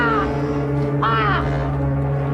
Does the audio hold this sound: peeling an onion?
no